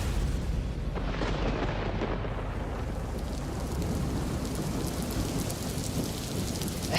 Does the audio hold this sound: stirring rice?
no